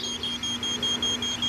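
An invisible dog fence collar emits a rapid, steady train of high-pitched beeps near the boundary line, repeating evenly and continuously over a soft background hiss.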